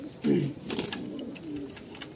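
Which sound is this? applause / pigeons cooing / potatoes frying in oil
pigeons cooing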